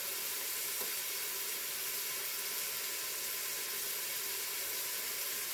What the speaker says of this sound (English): my beef as it is cooking